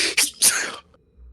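A single short sneeze, loud and close, with a sharp burst and a quick fading tail, followed by near silence.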